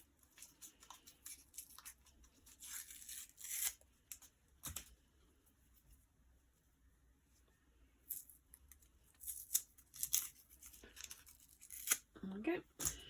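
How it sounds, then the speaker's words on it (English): Masking tape is peeled off a macrame rainbow project in several quick, faint tearing strips spread across a quiet stretch, close by, with some soft handling noise. "and then taking off the masking tape."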